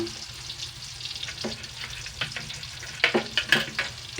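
Ham fries in a pan with a little added oil, giving a soft continuous sizzle broken by small crackles and a few sharper pops and clinks toward the end, close by with no speech.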